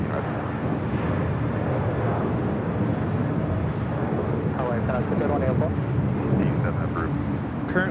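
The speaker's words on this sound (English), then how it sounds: "is Asian Airlines 201 Super departing to Seoul on A380" An Asiana Airlines A380 departing Los Angeles International Airport, a loud steady broadband jet roar throughout, with someone speaking over it.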